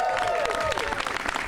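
Brief applause from an audience at a gun violence prevention grant press conference, a short burst of scattered clapping mixed with crowd noise.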